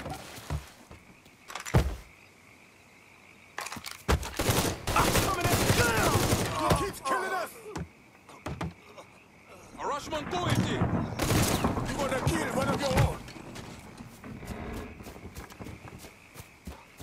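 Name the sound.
gunfire in the video game Mafia III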